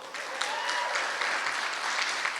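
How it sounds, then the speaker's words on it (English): Audience applause at a college Fall 2024 Flex Day welcome session, steady continuous hand clapping from a crowd filling the whole stretch at moderate level, no talk over it. "give yourself a big hand clap"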